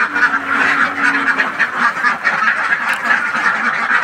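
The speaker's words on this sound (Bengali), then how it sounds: "তো আমি হাঁসটা কোন পরিবেশে রাখি সেটা আপনাদের দেখাচ্ছি একটু।" Ducks and geese quack and honk continuously in a penned enclosure beside water, a dense, loud, overlapping chorus of many birds close by, with no talking.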